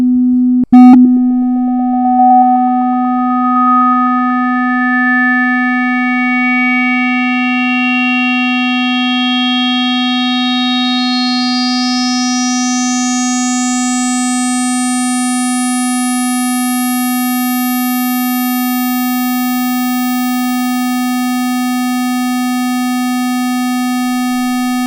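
Synthesized tone on a steady low fundamental, with harmonics stacked on one after another as a resonant low-pass filter boost sweeps upward and accents each new partial, moving from a plain to a rich waveform; loud, sustained and alone.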